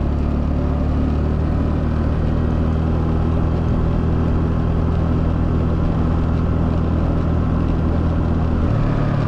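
A Honda Navi 110 motorbike idles steadily on a cold day, its small engine giving a constant low rumble with a slight shift near the end, close by and with no talk.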